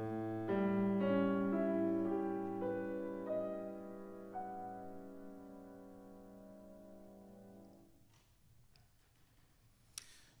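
Piano sounds a rich root-position chord from a late sonata, its notes entering in quick succession and then ringing out together and slowly decaying into quiet, followed by a few faint clicks.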